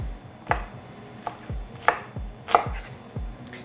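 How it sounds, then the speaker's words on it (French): Knife chopping through an onion on a cutting board, five distinct sharp chops spaced about evenly, close and fairly loud over a quiet room with no voices. "Petit oignon émincé."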